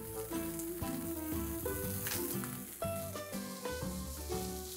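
Broccoli florets sizzle on a hot grill, a continuous crackling fry with dense popping spatter, steady and close throughout, heard alone with no talking.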